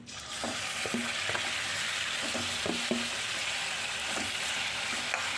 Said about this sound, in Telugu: ఇప్పుడు ఆయిల్ వేడెక్కాక చికెన్ ఇంట్లో వేసేసుకోవడమే